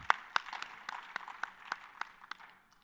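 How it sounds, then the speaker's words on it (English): Sparse applause from a conference audience after a health innovation panel, a scattering of individual claps ringing out at irregular intervals, fairly quiet in a large room and fading away at the end. "round of applause for the last panel."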